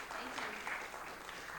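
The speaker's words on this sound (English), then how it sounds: "give her a round of applause." A brief, fairly quiet patter of audience applause at a health and wellness seminar, mixed with a voice talking over it.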